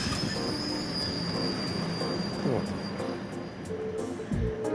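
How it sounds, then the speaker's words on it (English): Freight train in the video game Trails of Cold Steel, a continuous rumbling rail noise with wheel squeal and a steady high whine, fairly loud and constant throughout, with brief thuds near the end. "Yep, that'll be a freight train."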